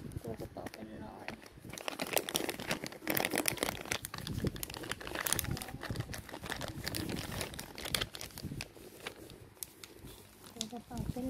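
Plastic bag crinkles and rustles continuously up close while items are packed into a handbag, with a person talking over much of the handling.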